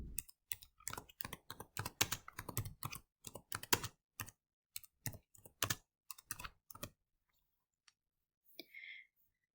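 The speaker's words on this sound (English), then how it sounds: "we can type our question and send it to the presenter" Rapid, irregular keystrokes on a computer keyboard, close and crisp, typing out a question in quick bursts before trailing off into a few isolated clicks and near silence.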